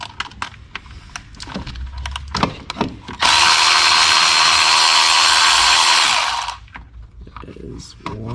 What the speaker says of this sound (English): now I'm going to take the timing belt tensioner off with my fancy tool